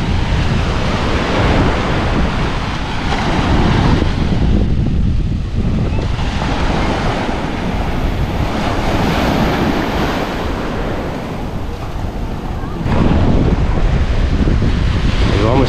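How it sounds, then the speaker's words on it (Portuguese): Ocean waves break continuously on Praia do Dourado beach in Maragogi, Alagoas, at high tide, a loud, steady wash of surf with wind buffeting the microphone. "barulhinho das ondas é tão gostoso"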